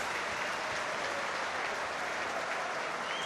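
Rugby league stadium crowd applauding a player coming off the field in a Challenge Cup quarter final, a steady, far-off ripple of clapping with no pauses.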